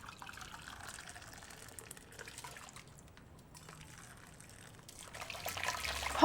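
Hot water runs into a kitchen sink while Southeast Asian mussels are being prepared, a soft steady trickle that stays quiet and close before swelling louder and splashier at the end.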